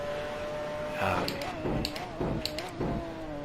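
Racing engine of a McLaren F1 GTR in the Assetto Corsa game, driven on the Nordschleife, braking and downshifting to fifth gear: a steady engine drone broken by several sharp blips and revs.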